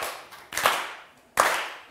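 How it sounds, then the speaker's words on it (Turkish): Two short bursts of sparse, sympathetic clapping from a TV word-quiz show studio audience (Kelime Oyunu), each fading quickly, with a quiet gap between them and no talk. "Üzgün alkışı yedik ağzımızın ortasına sevgili izleyenler."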